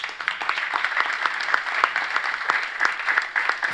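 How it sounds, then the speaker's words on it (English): Audience applause for four past presidents at a film and television association event in Barbados: steady, moderately loud clapping from a room of people, dense and continuous with individual claps standing out, no talk. "give these 4 of our past presidents a round of applause"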